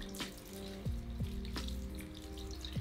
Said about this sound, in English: Then rinse off your hands again.